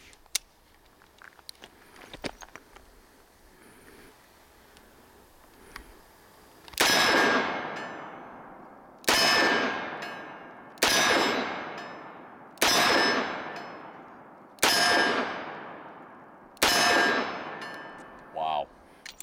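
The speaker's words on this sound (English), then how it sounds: "The revolver is absorbing all the recoil of this 357 Magnum" Six loud .357 Magnum shots from a Smith & Wesson 586 Classic revolver, fired at a steady pace about two seconds apart, each a sharp crack with a ringing tail, after a stretch of quiet outdoor background with faint talk.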